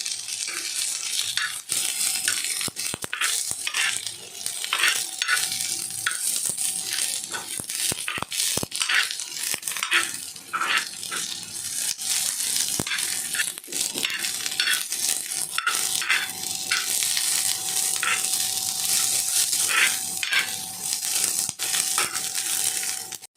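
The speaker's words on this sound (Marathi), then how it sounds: "कांदा टाकायचा आपण तेलामध्ये इकडे कांदा परतवला" Onions frying in oil in a pan for paneer masala, a steady sizzle with stirring and scraping of a spoon against the pan throughout, close and continuous with no talking.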